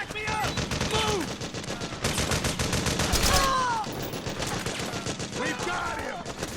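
Rapid, continuous automatic gunfire from the video game Metal Gear, a dense fusillade of evenly spaced shots running through the whole stretch, with shouting voices rising over the barrage.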